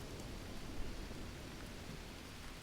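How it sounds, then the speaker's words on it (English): Steady rain hiss in the jungle survival game Green Hell, a low, even wash of falling drops with no talk over it. "Ah, the rain's coming in."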